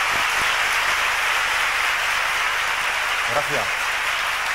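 An audience at a tribute concert for a singer applauds in a continuous, even roar, and a voice briefly speaks over the clapping near the end.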